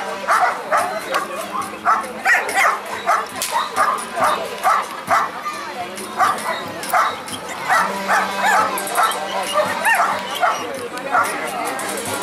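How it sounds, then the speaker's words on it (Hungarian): Chili the dog barks eagerly for prey during a working dog demonstration, giving a long run of rhythmic, closely spaced barks and yips while a person talks throughout. "itt látható, hogy már ugat, már szeretné azt a zsákmányt magáénak tudni"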